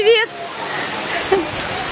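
Ocean waves wash onto a beach in a steady broadband rush, with a voice talking briefly at the start and again near the middle.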